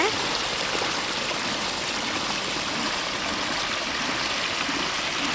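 Steady, full rush of water pouring out continuously from an irrigation pipe into a maize field, a dense hiss with no pauses and no voices.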